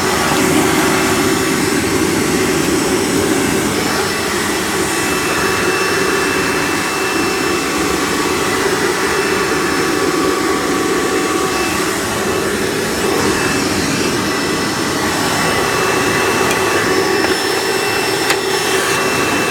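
A Hoover Breathe Easy U5270-930 upright vacuum runs loud and close with a steady, roaring motor hum and airy rush that holds unchanged throughout, with no talking.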